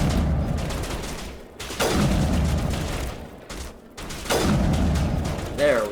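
Weapon fire in a Mass Effect Legendary Edition battle, two long roaring bursts of sustained shooting with booming swells, separated by short lulls, while a voice talks over the fighting.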